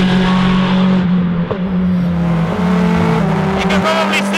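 Praga R1T EVO, a 620 kg carbon-monocoque race car, driven on a circuit; a loud, steady engine drone from inside the cockpit, with a sharp click near the middle and a slight shift in pitch later, under faint talk.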